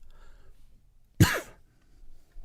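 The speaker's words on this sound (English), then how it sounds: "Cough." A single short cough, close and fairly loud, against an otherwise quiet background.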